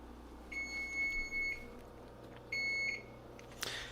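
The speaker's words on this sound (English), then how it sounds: "as you can see, the timer's about to go off." A kitchen timer beeps in two short bursts of rapid high-pitched tones, fairly close, with a brief clatter at the end.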